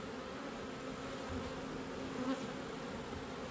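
A steady, low droning hum of many honey bees buzzing together at close range inside a hive, continuous and even throughout.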